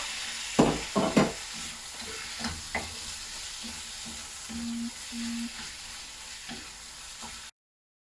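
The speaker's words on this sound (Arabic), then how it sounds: "دابا غنخلي الدجاج مع البصله ومطيشه" Chicken pieces cooking in a pan with onion and tomato give a steady low sizzle, with a few sharp stirring clatters early on and soft scraping through the rest.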